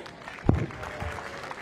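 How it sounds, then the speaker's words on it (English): Spectators at a British tennis match give a short round of applause for the line umpires, a brief burst of clapping that quickly fades into a murmuring crowd. "Can we have a rip of applause for them?"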